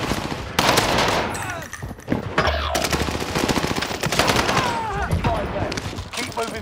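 Rapid gunfire in a Call of Duty-style battle royale video game, dense bursts of automatic shots close and loud, with overlapping game voice callouts and effects.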